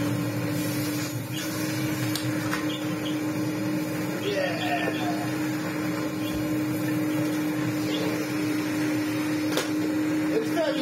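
A vintage Electrolux Z65 vacuum cleaner, fitted with its bag and hose, runs continuously with a steady motor hum and airy whine, holding an even level throughout with faint clicks and handling noises on top.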